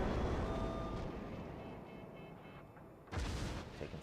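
Naval cannon fire from 203 mm guns loaded with AP shells in a warship battle game, a heavy cruiser engagement, heard as a sustained rumbling roar followed by a fresh boom near the end, fairly faint overall.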